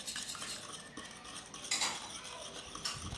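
Eggs stirred in a mini pot on an induction stove, a steady scraping and clinking of a utensil against the pot, close and fairly quiet, with a few sharper clinks.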